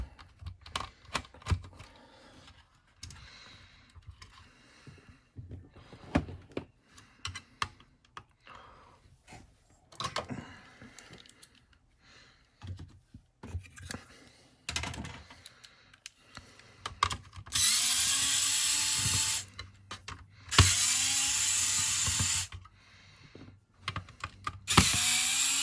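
Screws being backed out of the metal shield plate on a Sega 32X add-on during a repair, with small scattered clicks and tool scrapes, then two longer steady bursts of a whirring power driver near the end, close up and with no talking.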